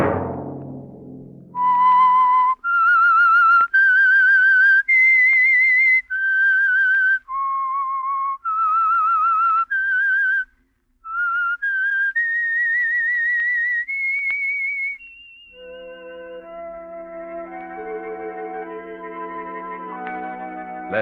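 A lone whistler carries the signature theme for The Whistler radio mystery program, a string of sustained, slightly wavering notes in reverb with pauses between phrases, before a soft orchestral passage enters underneath near the end.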